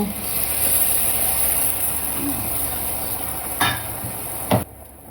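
Ivy gourd pieces frying in oil as tamarind juice is poured in, a steady sizzle with a constant high whine and a couple of brief clatters near the end.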